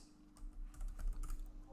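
Computer keyboard typing of shell commands in a git bash prompt, a quick irregular run of soft close key taps at low level, with no talking.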